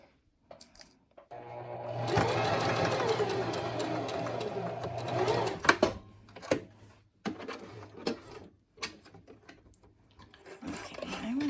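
A sewing machine back stitches a fabric pleat in one sustained run of about four seconds, followed by scattered clicks and handling noises at close range.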